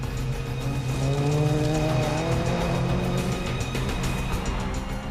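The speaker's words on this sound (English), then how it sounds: "These rally cars are competing in the Tour of Cumbria." Rally cars competing on roads in the hills of northwest England during the Tour of Cumbria: a continuous loud engine drone with rising and falling revs from a car nearby, no speech.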